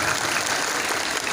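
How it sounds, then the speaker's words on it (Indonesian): Schoolchildren from an Indonesian elementary school burst into loud, dense applause, a steady wash of many small hands clapping close together with no break. "tepuk tangan untuk kita semua"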